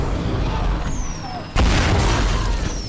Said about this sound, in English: It's a major explosion.